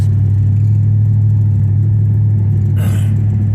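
An old rusty truck's engine rumbles loud and steady while driving, a constant low drone with no voices.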